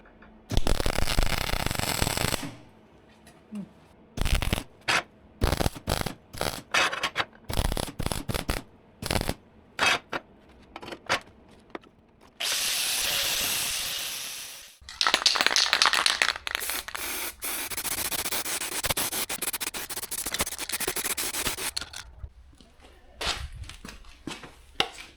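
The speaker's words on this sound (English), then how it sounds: "I'm just going to weld it up." Welding on a cracked metal winch bar, heard as harsh crackling hiss in repeated short bursts and a few longer sustained runs, separated by quiet gaps, close and loud with no talk.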